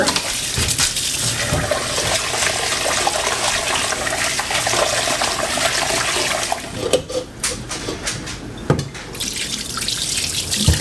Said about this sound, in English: you need to rinse it until the water that you pour out is clear